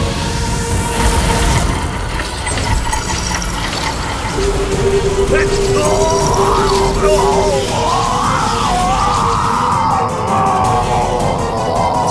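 Screams and yells from a crowd of people in a Hindi TV drama scene, loud and sustained, rising over a dense background of mechanical ratcheting and grinding noise.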